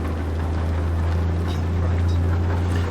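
A Detroit Diesel Series 60 truck engine in American Truck Simulator drones steadily at low pitch, holding revs while cruising under automated shifting, with faint wind noise over the whole stretch and no break.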